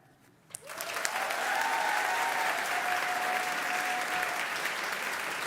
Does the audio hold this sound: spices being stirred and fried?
no